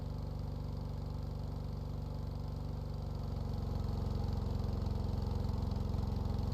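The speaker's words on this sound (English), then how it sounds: "Oh, the engine becomes louder as soon as it has to put in effort." A modular engine in a video game runs with a steady low drone, then grows a bit louder and rougher as the load increases, with no talking.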